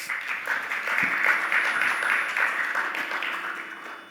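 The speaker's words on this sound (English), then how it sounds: "let's give her another round of applause" Audience at a conference event applauds steadily, a dense wash of clapping from many hands lasting several seconds without talk.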